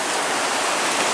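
A waterfall in a flooded woodland, close by and steady, a loud continuous broadband rush of falling water with no gaps or voices.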